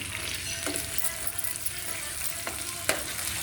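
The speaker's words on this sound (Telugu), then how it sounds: "కరివేపాకు వేగిన తర్వాత పచ్చిమిరపకాయలు వేస్తాను." Green chillies and curry leaves fry in hot oil with a dense, steady crackling sizzle, close up, with a few brief scrapes of a spoon against the pan.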